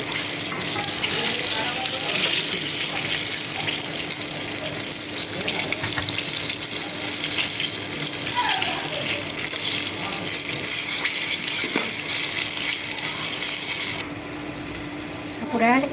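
Chicken pieces for a crispy chicken fry sputter in hot oil, making a steady, dense sizzle that runs unbroken throughout and drops slightly in level near the end.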